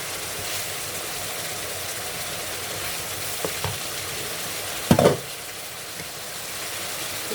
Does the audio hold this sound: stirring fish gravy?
yes